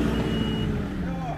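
A JCB 542.70 telehandler sounds its safety warning beep, a steady high-pitched tone held over the loud rumble of the machine's engine, close by.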